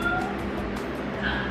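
Small whimpers and yips from dogs with tall ears, watching someone prepare frozen strawberry and banana nearby, with short high cries over a steady room background.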